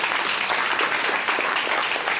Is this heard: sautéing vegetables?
no